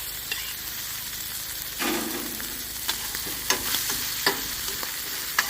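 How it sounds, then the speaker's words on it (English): Butter and spices sizzle in a skillet, a steady crackling hiss with a few louder spits and pops and the occasional scrape of stirring, heard close and without talk. "Then I put some butter in a skillet and added some spices to it."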